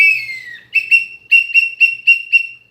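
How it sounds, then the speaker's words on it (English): A handheld whistle is blown close up and loud: one long sliding tone, then a run of short sharp toots in a quick, uneven rhythm, with no voices. "I like to scare people with whistles."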